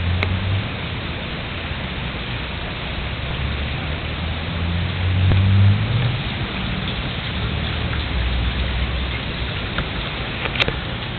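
Heavy rain falls in Costa Rica, with a dense, continuous hiss of drops on surfaces and a faint low rumble beneath, steady and loud throughout.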